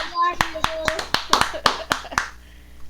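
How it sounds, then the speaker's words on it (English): Welcoming applause for a guest poet and professor: a handful of sharp, distinct handclaps in an irregular run of about nine, close and crisp, from only a few people, with a voice talking briefly at the start. "So please help me welcome him with a big round of applause"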